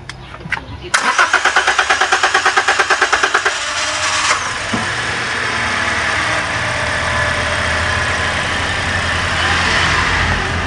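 After a few quiet seconds a car engine cranks with a rapid rhythmic churning starter for several seconds, then catches and settles into a steady, close idle that continues to the end.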